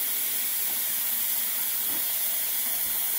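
Cooked noodles rinsed under cold running water make a steady broad hiss and spray, close and continuous with no pauses.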